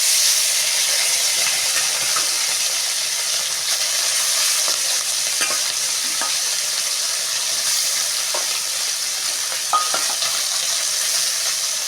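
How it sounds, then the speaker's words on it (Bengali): Small puti fish fry lightly in hot mustard oil in a kadai, giving a steady bright sizzle and hiss with occasional soft crackles and stirring sounds, close up with no voices. "মাছগুলো এখন ভেজে নেব হালকা করে।"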